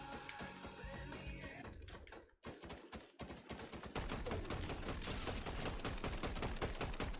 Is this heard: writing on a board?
no